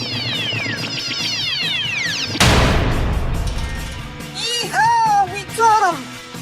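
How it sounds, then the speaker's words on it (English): Cartoon laser blasts in a space battle ring out as a quick series of descending electronic zaps, then a loud noisy explosion bursts in, followed by warbling swoops of sound effects. "Fire laser."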